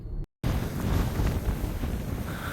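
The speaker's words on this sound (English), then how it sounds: "as you can see and hear, it's very windy up here" Strong wind roars and buffets the microphone in a loud, continuous rush at the summit of Mount Scott, after a brief moment of silence at the start.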